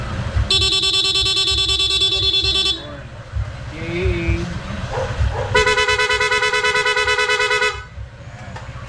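Two long, loud blasts of a PIAA dual horn on a Honda ADV 150 scooter in rapid mode, a sustained rapid warbling tone, separated by a pause with engine idle and a brief spoken word.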